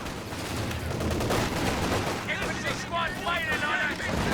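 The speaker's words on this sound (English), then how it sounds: "MG34 does get some good suppression there" An MG34 machine gun fires in the Company of Heroes 2 video game: dense, continuous bursts of gunfire blend with distant battlefield booms, while a voice talks over the fire.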